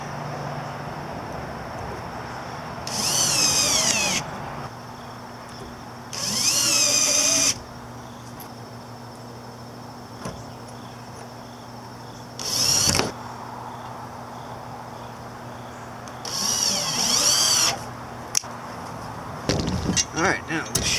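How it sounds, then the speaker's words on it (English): A power drill drives screws into a removable trailer wheel chock for a motorcycle, sounding as five short, close whirring bursts of one to two seconds each, separated by quiet pauses. "just put some screws in"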